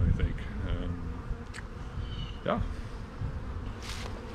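Honey bees buzz around a hive opened for the first time in spring, a thin insect drone under nearby voices and handling noises, with brief rising whines from bees flying close.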